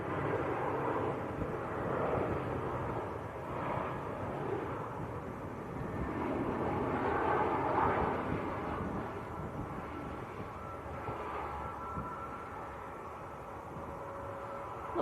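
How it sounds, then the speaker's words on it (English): An EasyJet passenger jet from Amsterdam lands at Manchester Airport. Its loud, continuous broadband rumble swells and fades gently as it passes, with no voices. "That was EasyJet from Amsterdam."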